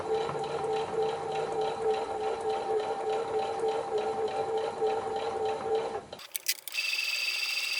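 Sewing machine stitching the binding edge of a quilted book cover, a steady fast mechanical whirring chatter with regular rhythmic ticks for about six seconds, then stopping abruptly and leaving a brief, different high-pitched tail.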